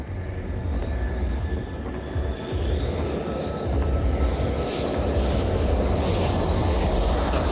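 The Spirit of Australia 2 speed record boat runs on rough water with a loud, continuous jet-like roar, a dense steady rush that holds throughout and swells slightly toward the end.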